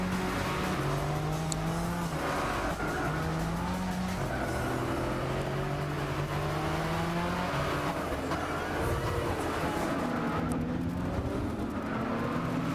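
Race cars, including GT3 cars, lapping a circuit in Gran Turismo 6, with steady engine drone, shifting revs and occasional tire squeal running continuously and fairly loud, with no talking.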